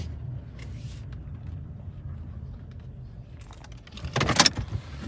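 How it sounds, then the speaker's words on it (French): A car running nearby gives a low, steady engine rumble, then a louder rattling, jangling burst near the end. No one speaks. "il y a une voiture qui fait du bruit"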